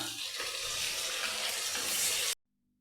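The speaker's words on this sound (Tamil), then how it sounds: "பாருங்க, இப்போ வெங்காயம் நல்லா வதங்கிக்கிட்டு இருக்கு." Steady, close sizzling and crackling of onions frying in a pan, with a faint stirring scrape, cutting off abruptly at the end.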